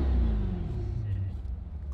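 Deep, throaty engine rumble of a mid-engine C8 Corvette convertible idling close by, with low growling pulses and a faint rise in revs.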